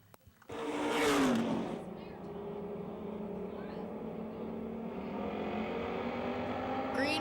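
Race cars surge away at the green flag of a 10-lap feature at Pennsylvania Motor Speedway near Pittsburgh, a loud engine roar swelling then settling into a sustained drone, with an announcer talking over it.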